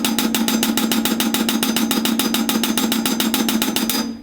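Sixteenth-note drum kit groove played with a push-pull hi-hat technique, steady bright hi-hat strokes in an even rapid pulse over a low drum body, close and loud throughout, ending abruptly.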